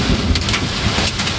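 Heavy rain from a sudden summer cloudburst with hail, driven by fierce wind along a two-lane road in Saitama, a dense continuous roar with gusty surges throughout.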